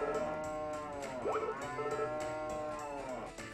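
Cows mooing in the Story of Seasons farming game, several long tonal lowing calls overlapping with a short rising bleat in the middle, clear and close over soft background music.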